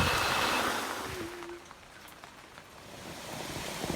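Rain falls on garden foliage plants in a steady, soft wash of patter, slightly heavier at the start and easing a little in the middle before filling back in.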